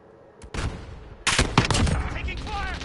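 Bursts of gunfire from a Call of Duty match on a PS5, sharp shots clustering into rapid volleys with a quieter lead-in, loud and close with game effects trailing off.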